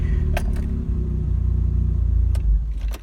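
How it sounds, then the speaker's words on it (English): A Mk2 Vauxhall Cavalier rat-look build with an SRi 130 engine idles and rumbles steadily through its exhaust, recently suspected of a loose clamp, with a few light metallic clicks over the low, even drone. "Listen to the exhaust."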